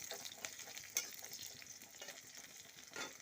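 Chopped onions fry in a pan, turning red, with a steady bright sizzle and occasional stirring scrapes, close and moderately loud with no talking.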